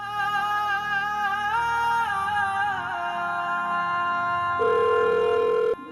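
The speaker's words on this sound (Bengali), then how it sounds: "আমি ফোন করছি" A phone tone of changing melodic beeps plays during a call in a Bangla short-film scene, then shifts to a single steady buzzing tone before stopping abruptly; no voices are heard.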